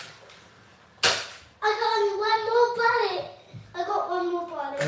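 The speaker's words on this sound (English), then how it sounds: "I'm currently being shot at to bits by a limited edition Spider-Man Nerf wrist gun" A limited edition Spider-Man Nerf wrist gun fires once with a sharp, loud pop, and a voice talks over a steady background right after it.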